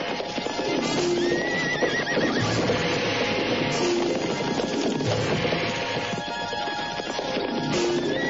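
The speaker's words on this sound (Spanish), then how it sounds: "Monta ese caballo y corre." A horse whinnies over a steady clatter of hooves as mounted lancers set off in pursuit, the neighs ringing out loud and near against the dense, continuous gallop.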